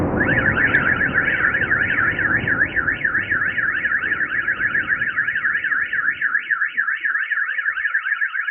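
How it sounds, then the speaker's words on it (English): A car alarm wails nearby in a fast, steady rising-and-falling warble. It is loud and continuous, with low rumbling underneath that fades away. "I know that can be very annoying hearing those car alarms going off"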